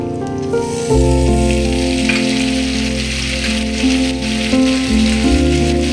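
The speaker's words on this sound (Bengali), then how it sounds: "পেঁয়াজটা দেখো লাল লাল হয়ে গেছে ভাজা। এর মধ্যে আমি টমেটো কুচি দিয়ে দেবো।" Chopped onions and tomato fry in a pan with a continuous close sizzle and crackle. A steady tonal drone runs underneath throughout.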